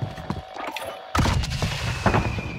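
Gunfire rings out in Call of Duty: Modern Warfare, a few loud close shots with a sharp burst midway, sounding alone without talk.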